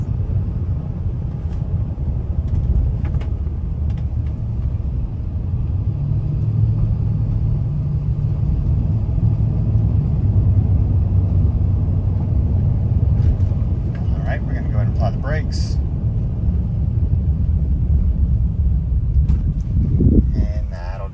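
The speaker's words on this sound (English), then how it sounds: "We're going to go ahead and take it on a quick test drive." A 2005 Toyota Tundra extended-cab V8 pickup on a test drive gives a steady, loud engine and road rumble from inside the cab that runs throughout, with a few brief clicks and rattles late on.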